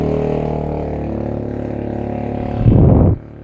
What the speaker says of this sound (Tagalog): Ang ingay ng mga motorsiklo guys.